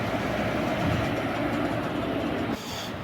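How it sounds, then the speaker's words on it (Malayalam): A Karaikal Express train hauled by a WP4 locomotive rolls along with a steady, loud broadband roar of wheels on rails. The sound drops slightly near the end. "WP4 ആണ് നമ്മളെ പുള്ള് ചെയ്തുകൊണ്ട് പോകുന്നത്"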